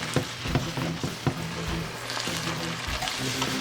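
Al dente linguine is stirred and tossed into a spicy red shrimp fra diavolo sauce with chili flakes and basil in a sizzling pan, with a continuous close frying hiss broken by repeated soft knocks and scrapes from stirring.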